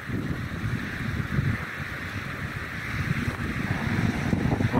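Cold January night wind by the Neva river in St Petersburg buffets the microphone in a continuous, fairly loud rumbling gust that swells slightly toward the end, with no voices.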